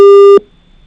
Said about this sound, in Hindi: एक बार शायद फोन कट कर दिया